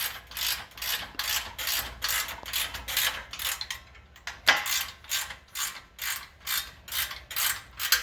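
A bolt is tightened with a ratchet during assembly of a steel rack. The rapid, even ratcheting clicks repeat in close, regular strokes with one sharper knock partway through.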